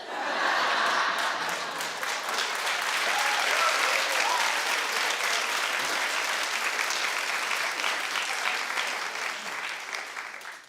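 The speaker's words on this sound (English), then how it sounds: "I asked you to please stop having people clap." A TV talk-show studio audience claps steadily for about ten seconds, a dense, even wash of applause that fills the room from start to finish.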